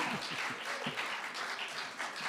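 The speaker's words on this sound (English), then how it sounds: "Let's have one more round of applause for the newest play in the world." Audience applause follows a newly premiered play, a continuous, fairly faint patter of many hands clapping at a distance, with a few voices mixed in underneath.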